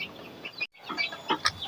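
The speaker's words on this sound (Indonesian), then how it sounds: "Ini ayam-ayam kita, dia sedang makan ya, sedang makan semua" Chickens feeding in the morning on a small Indonesian farm, giving soft, scattered clucks and short calls in brief bursts close by, with no voices.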